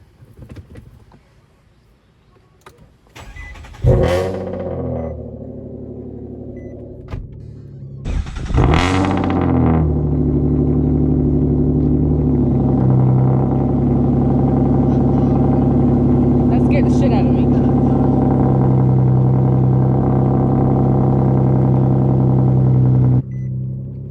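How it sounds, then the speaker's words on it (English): A few clicks and a whirring starter give way to a sharp engine catch and revving burst from a 6-speed manual swapped Nissan Maxima, then a loud, rumbling idle that holds steady for many seconds. "this is first start of the car"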